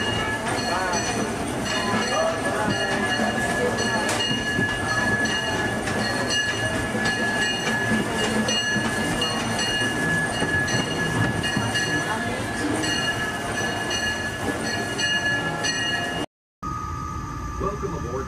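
A train runs at Main Street Station on Main Street, USA, with steady close rumbling and rail clatter. A spoken announcement carries over it, and the sound cuts briefly near the end.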